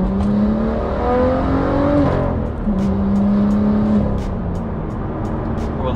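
A lowered BMW M2 on KW H.A.S. suspension drives past with a steady engine drone that climbs in pitch under acceleration, drops briefly at a gear change, then pulls again, loud and close throughout.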